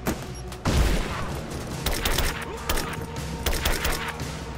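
Covering gunfire in the video game Rise of the Tomb Raider, in an abandoned mine: repeated sharp gunshots and bursts at irregular intervals over a busy background, loud and close.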